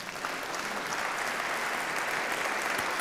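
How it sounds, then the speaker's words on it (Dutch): A church congregation claps in steady, dense applause for the Lord during a worship service, a loud, continuous wash of hands sustained throughout without a break. "Geef een applaus aan de Heer."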